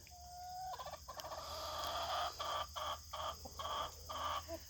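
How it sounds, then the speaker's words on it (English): Chickens cluck and squawk in a run. They make a string of close, choppy calls over a steady background hiss. "They're very well behaved chickens."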